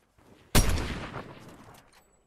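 A sniper rifle shot in Fortnite, a single sharp crack up close followed by a long rolling echo that fades away over a couple of seconds, heard alone without talk.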